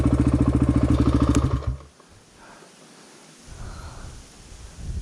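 An XR250 dirt bike engine throbs loudly with a fast pulsing rhythm as it heads up a dirt hill, then cuts off abruptly, leaving quiet rustling and scuffing on the ground.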